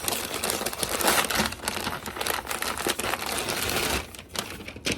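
Paper wrapped around a bundle of clothing is crinkled and torn open in a continuous, close run of rustling and crackling, with no one talking over it.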